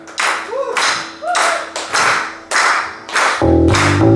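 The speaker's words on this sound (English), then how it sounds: "Everyone, you give us a clap for us" Loud, close clapping at a live band gig in a Worcester bar comes in strong rhythmic bursts about every half second. A voice shows briefly between bursts, and a sustained tone enters near the end.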